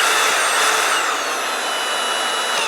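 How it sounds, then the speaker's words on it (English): A Kobalt XTR 24-volt brushless cordless drill runs continuously, close and loud, with a high whirring motor whine whose pitch shifts slightly as the speed changes. "So you got full control from this drill."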